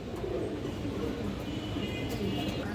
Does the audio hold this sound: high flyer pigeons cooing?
yes